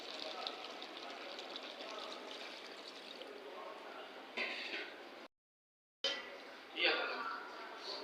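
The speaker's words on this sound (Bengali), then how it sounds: "এখন ঝোলের জন্য পরিমাণ মতো পানি দিয়ে দিব।" Water poured into a pot of country chicken curry with bottle gourd to make broth, a faint trickling pour in a kitchen with a brief splash near the end.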